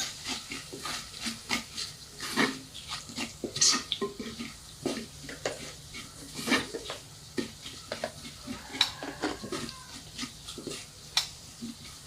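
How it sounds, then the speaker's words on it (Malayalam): Turmeric and coriander powder are stirred into a pan for a coconut pickle, giving a steady run of scraping spoon strokes over a soft sizzle, close and at moderate loudness, with no voices. "കാൽ ടീസ്പൂൺ മഞ്ഞൾപ്പൊടി ഒരു ടീസ്പൂൺ മല്ലിപ്പൊടി മിക്സ് ചെയ്ത് കൊടുക്കുക"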